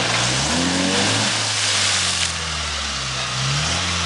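A car engine revs hard and steady close by, holding a loud, strained drone with rising and falling pitch as the throttle is pressed, with no voices heard.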